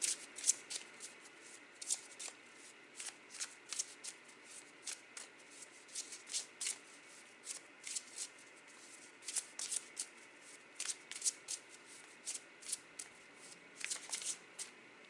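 Tarot cards shuffled by hand in a steady run of soft riffling flutters and light taps, close and fairly quiet, with no voices.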